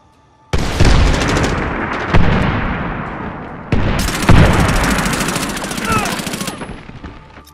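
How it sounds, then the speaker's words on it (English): Mortar and gunfire in the Medal of Honor Warfighter video game, loud rapid bursts of shots and booming blasts that start abruptly and continue for several seconds before cutting off. "Killed by a mortar that blows."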